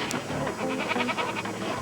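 Goats bleating inside a car: a quick run of wavering, nasal bleats, close and fairly loud, overlapping in a short burst.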